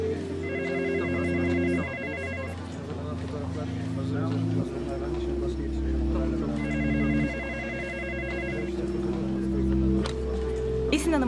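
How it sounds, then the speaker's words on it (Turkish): A telephone rings repeatedly in an office, electronic trill bursts in a regular pattern over a sustained musical score. "Esin Hanım'ın telefonu."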